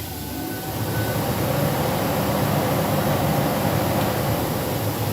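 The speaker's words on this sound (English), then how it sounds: "To turn the vacuum fan on, it's the front section of the rocker switch." The vacuum fan of a Gansow 512 sweeper runs as a steady, loud, broadband whoosh and hum that starts up at the opening and holds unchanged throughout.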